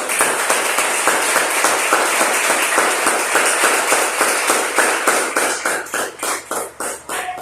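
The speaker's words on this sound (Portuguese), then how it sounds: "Aplauda Jesus." A church congregation claps steadily and loudly for several seconds, a dense wash of applause that thins into slower, distinct rhythmic claps toward the end.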